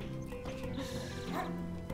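A dog barking in the video game Night in the Woods, short yips and barks mixed with game music and sound effects.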